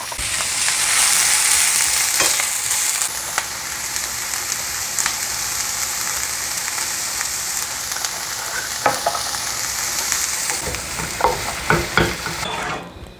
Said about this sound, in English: And just saute them till the onions are translucent